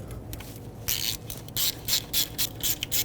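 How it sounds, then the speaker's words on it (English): A ratchet tightens a 10mm bolt on the alternator bracket of a 2012-2017 Toyota Camry 2.5L. Quick bursts of clicking come in about six short runs after a brief pause, close and crisp over faint background hum, with no voices. "Resecure this bracket with the 10mm bolt."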